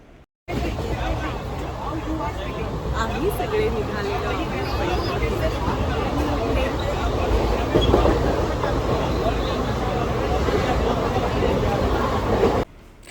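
Steady rumbling of a moving train departing Mumbai toward Satara, with rattling carriage noise and a babble of passengers talking throughout, loud and continuous.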